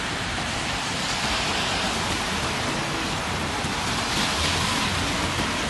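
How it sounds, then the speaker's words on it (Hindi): Steady rain falls at night at Vancouver airport, a dense, unbroken hiss of drops on surfaces, loud and continuous with no pauses. "मुसलसल बारिश हो रही है। ये देखिए बारिश जो है वो रुकने का नाम नहीं ले रही।"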